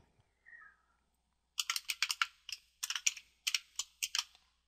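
A name is typed on a computer keyboard into a sign-in form on an Ubuntu 12.04 desktop: after a brief faint sound, a run of crisp, close key clicks comes in uneven bursts, with short pauses between groups.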